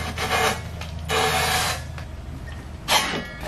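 A hand facing tool cuts the end of a bicycle head tube, producing scraping, rasping strokes in three bursts with brief pauses between, close and moderately loud.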